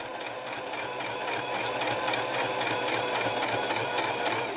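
A Brother XL2600 sewing machine runs steadily through fabric, a continuous close mechanical whir with rapid stitching ticks that holds level for the whole stretch without any talk.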